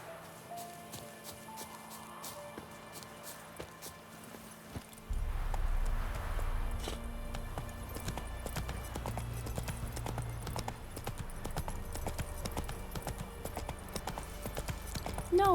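Hooves of Roach, Geralt's horse in The Witcher 3 video game, clip-clop in a steady trotting rhythm, starting faintly and becoming louder after about five seconds, with game ambience underneath.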